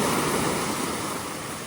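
Ocean waves wash over the sand on a Boracay beach near coconut palms, a steady broadband rush of surf that eases slightly over a couple of seconds.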